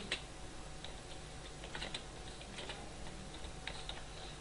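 Fingers type on a computer keyboard in a Word document, producing a quick, irregular run of close clicking keystrokes over a steady background hum, with no talking.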